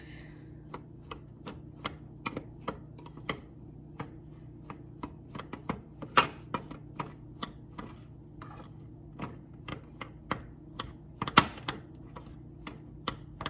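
A spoon scraping and tapping in a bowl while mixing gluten-free, dairy-free cinnamon roll muffin batter with olive oil, a steady series of crisp clicks and knocks, close and fairly quiet, with no talking.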